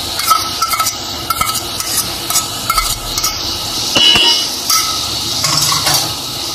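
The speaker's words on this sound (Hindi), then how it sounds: "मैंने अच्छी तरह इसको फ्राई कर लिया है, अब इसमें लहसुन जाएगा" Garlic goes into onions frying in a pot for milk-based white chicken biryani, with steady stirring scrapes and light clinks of a spoon against the metal pot over a soft background sizzle.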